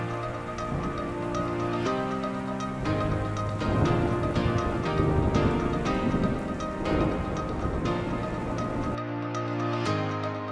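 Rain falling during a drive through hill villages in the mountains, a steady patter of drops mixed with a continuous tonal hum, moderately loud and even throughout.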